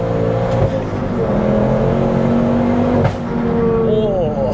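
Fully forged 400 BHP Ford Focus ST accelerating, a loud, harsh engine roar that climbs through the revs, dips briefly around a gear change, then pulls again, with a voice faintly under it.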